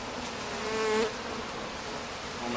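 Honey bees swarm around a hive being split, making a dense, steady close drone that swells briefly near the start and stays loud throughout.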